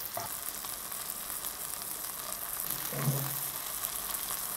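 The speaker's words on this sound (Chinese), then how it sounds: "黄油煎的就是香，给它换一面" Red prawns fry in butter with garlic and onion in a pan, a close, steady sizzle throughout with a brief louder crackle and stir partway through.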